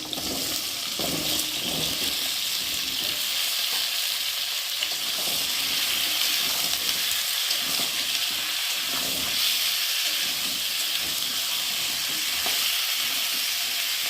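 Cut potatoes frying in oil in a pan make a loud, continuous close sizzle with occasional stirring scrapes, with no talking throughout.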